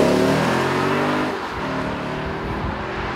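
Lexus IS F V8 revving with a throaty, old-school tone, loud and close: a strong sustained rev for about a second and a half, then a lower, rougher engine note that settles but keeps running, with no talking.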